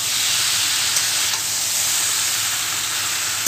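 Ajwain, fennel, cumin, whole coriander and dried chilli sizzle in hot oil while being stirred, giving a loud, steady, unbroken frying hiss with no voices.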